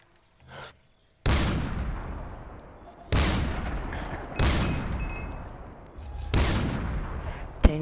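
Bursts of AK-14 assault rifle fire in the shooter game Far Cry 4, loud and close, arriving in three long sustained volleys after a short earlier pop, with brief gaps between them.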